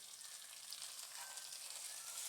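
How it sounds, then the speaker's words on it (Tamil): Onions sautéing in a pan over a medium flame for coconut milk pulao, a soft, even sizzle with light crackle, close but faint and uninterrupted. "வெங்காயத்தை வதக்கும் போது மீடியம் ஃப்ளேம்லேயே வச்சு வதக்கிக்கோங்க."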